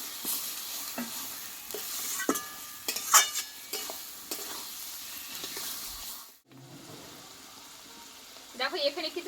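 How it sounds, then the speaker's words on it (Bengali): Chicken sautéing with spices in a pan hisses and crackles close by, broken by spatula scrapes. The sizzle cuts out for a moment, then returns, softer at first and then flaring up again. "চিকেনটা দিয়ে আমি আরও কিছুক্ষণ কষিয়ে নেবো ভালো করে"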